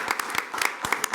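Applause from a small audience at a board meeting, a brief patter of scattered hand claps, close and uneven, with no talking over it.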